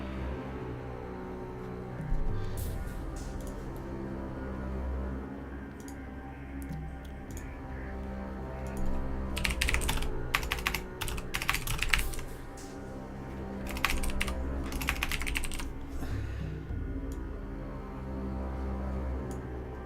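Computer keyboard typing in bursts of rapid clicks, with busier clusters partway through, over a steady low background hum of game music; no voices.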